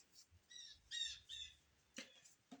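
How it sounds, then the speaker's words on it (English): A bird gives a quick series of sharp chirps and squawks, quiet but clear against a near-silent background, with no one talking. "I don't know if you heard that bird"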